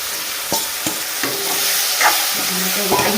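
Pieces of eel fish fry in a wok, a steady sizzle punctuated by several distinct scrapes and clanks of stirring, close and fairly loud with no talking.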